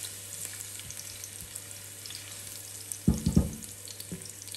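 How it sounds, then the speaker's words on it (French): Garlic cloves frying in olive oil give a steady, soft sizzle with faint crackles, joined near the end by a few louder clattering knocks close by, with no voices. "les gousses d'ail à l'huile d'olive. Et on va les faire revenir pendant plusieurs minutes"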